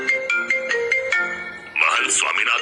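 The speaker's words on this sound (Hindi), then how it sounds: "महंत स्वामीनाथ का फोन" A phone plays a melodic electronic ringtone as a rhythmic sequence of bright beeping tones, and then a voice speaks over it near the end.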